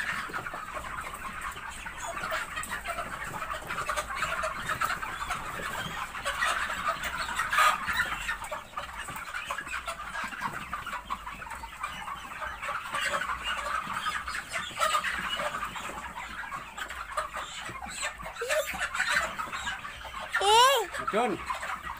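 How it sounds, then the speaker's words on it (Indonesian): Chickens cluck and squawk steadily at a poultry farm during a harvest of some 500 sixty-day-old birds, a dense nearby flock with an occasional sharper squeal near the end. "Ayam induk merah, ini ayam induk merah."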